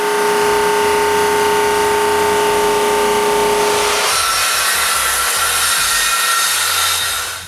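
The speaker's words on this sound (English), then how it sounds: "When the glue is dry, I pass them through the drum sander again" A drum sander feeds glued-up wooden shelf panels through to bring them to a uniform thickness. It makes a loud, steady grinding roar that changes pitch and texture partway through as the panel passes the drum. No one speaks.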